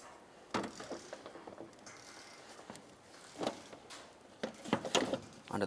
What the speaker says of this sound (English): Now I'm just going to take this and I'm going to start sliding it in.